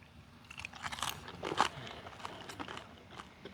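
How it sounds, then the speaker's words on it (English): Crunchy, blistered skin on an oil-bath smoked pork belly is bitten and chewed, giving a few crisp, close crunches over quiet background, without talk. "Some areas of it is crunchy where the grease actually blistered the skin."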